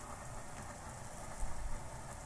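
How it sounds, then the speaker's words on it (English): Freezing rain falls during a snow storm in northern Ontario, a steady hiss of fine pellets ticking on surfaces, close and continuous with a brief low thump midway and no voices. "You could hear the freezing rain."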